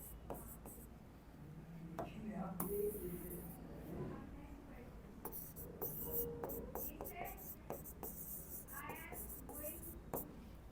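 Marker or chalk scratching across a board during a physics lesson on concave mirror reflection, soft intermittent strokes and taps heard close while a teacher talks over them.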